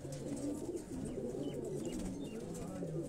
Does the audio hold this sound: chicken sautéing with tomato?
no